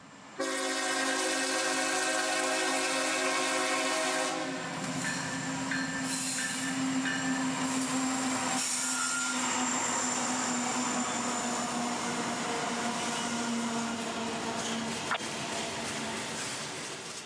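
A CSX work train, WO96, made up mostly of Herzog hoppers behind a loaded cut of stone, opens with a loud sustained chord of its horn, then rumbles steadily past with rolling wheel and car noise and brief squeals.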